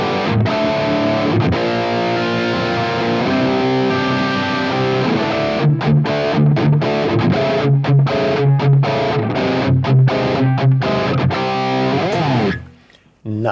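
A heavily distorted electric guitar plays through a Mesa Boogie JP-2C amp capture with the 80 and 240 Hz sliders pulled down, chugging palm-muted riffs and sustained chords, loud and continuous before a brief drop at the end.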